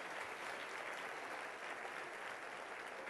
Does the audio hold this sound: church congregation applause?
yes